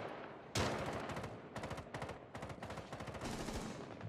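Rainbow Six Siege gunfire shot through a wall, a loud opening shot followed by several rapid bursts of automatic fire, sharp and close, with no voices.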